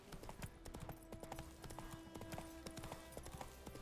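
Horse hooves clip-clop in The Witcher III at dusk, a steady, quick rhythm of close, distinct hoofbeats with a faint tonal background hum beneath.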